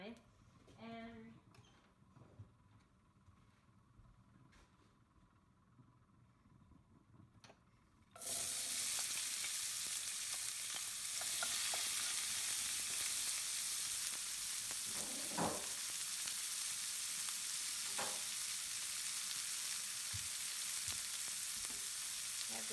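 Frying and sizzling in a pan while cooking baingan bharta, an eggplant dish: quiet kitchen sounds with a voice early on, then a sudden loud, steady sizzle that continues with occasional stirring clicks.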